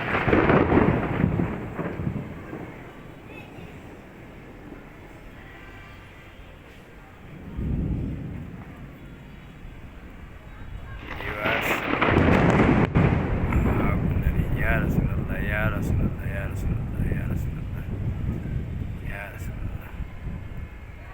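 Deep thunder rumbles roll in several times during a thunderstorm with lightning, loud and low, amid windy outdoor noise, with a person talking at points in between.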